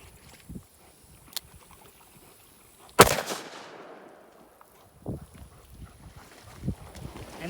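A single revolver gunshot cracks out sharply outdoors and echoes away, followed by quieter rustling and small thumps.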